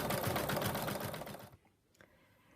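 An embroidery machine stitches the outline of a fabric mug rug in a fast, steady mechanical rattle. It stops abruptly after about a second and a half, followed by a faint click.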